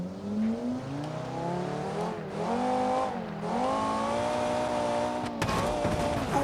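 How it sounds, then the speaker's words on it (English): Racing car in the video game Automation, its engine note rising and falling through gears with tire squeal, steady and loud close up for several seconds, ending in a rough burst. "That's when I try and drive a car with this kind of speed."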